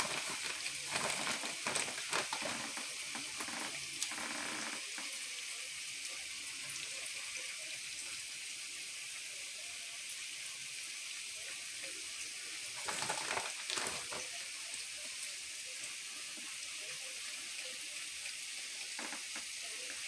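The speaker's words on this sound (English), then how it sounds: "And I'm going to let that melt down with the butter" Butter and brown sugar melt together in a pan with a steady, soft sizzle throughout. Occasional clinks and stirring sounds break through near the start and again midway.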